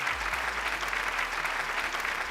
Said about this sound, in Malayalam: ഒരിക്കൽ കൂടി നല്ലൊരു കൈയടി.